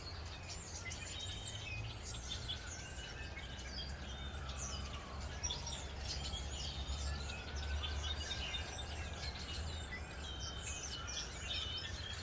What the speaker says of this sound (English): I wanted to hear the birds and share this big tree with you.